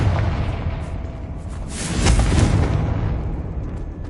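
In Hogwarts Legacy, the Confringo spell detonates with a loud, rumbling explosion. The boom swells midway and fades into a sustained roar, all close and forceful.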